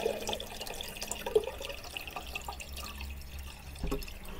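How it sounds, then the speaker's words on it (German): Water is poured onto a potted orchid, a soft, close trickle with light drips and splashes, quiet and steady with no talking. "Die wird gegossen, definitiv."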